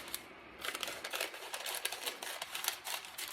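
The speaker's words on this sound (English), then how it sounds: "Look for your seam on your lunch bag and cut up the seam." Scissors snip steadily up the seam of a paper lunch bag, a rapid run of crisp, close cuts with faint paper rustle and no talking.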